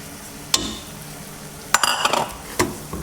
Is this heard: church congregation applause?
no